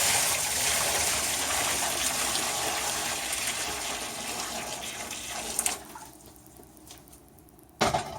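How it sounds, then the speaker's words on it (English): Boiling water pours steadily from a big pot into a sink for scouring wool, a hollow rushing sound, tapering off, then a brief splash and clank near the end. "I'm going to put half of this big pot of boiling water in my sink"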